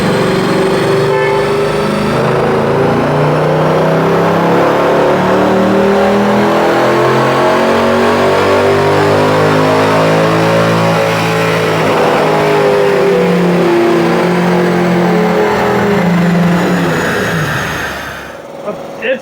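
A stock Mercedes C63 Edition 507 on a chassis dyno during a power run, engine revving hard and loud through rising gears with a dense, roaring exhaust note, then dropping off sharply near the end.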